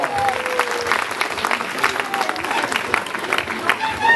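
A crowd at a trial bike show claps steadily, with many hands giving a busy, continuous sound, while an announcer talks over it through a loudspeaker.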